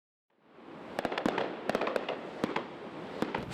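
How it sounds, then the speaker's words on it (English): Fireworks burst in a rapid crackling barrage, sharp loud pops and bangs stacking over a continuous rumbling hiss that builds in after a brief silence and keeps going, heard from a moderate distance with no voices. "The fireworks came more than 6 hours early this year"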